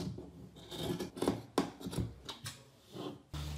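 Scissors cut through old clothing fabric being remade into a new outfit, giving a run of close rasping snips and rubbing strokes with handling noise, no talk.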